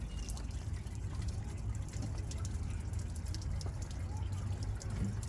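A small sculpture fountain in Kharkiv splashes and trickles outdoors on a rainy day, a steady close wash of falling water with light drips, heard with no speech.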